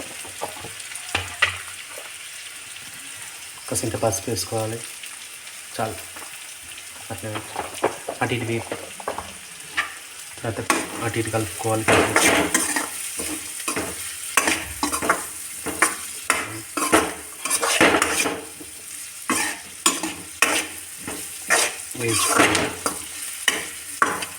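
Curry leaves and a pinch of turmeric sizzle in a hot pan with onions for egg fried rice, a loud, close, steady frying hiss broken by repeated stirring scrapes and light clinks of a spoon against the pan.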